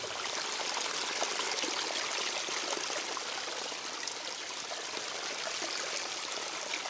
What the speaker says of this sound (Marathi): छोटा झरा